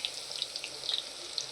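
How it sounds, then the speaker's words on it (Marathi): Chicken fries in a pan with a steady close hiss and scattered sharp crackles and spits of oil. "आता ह्याला व्यवस्थित आपण असं फ्राय करून घेणार आहोत"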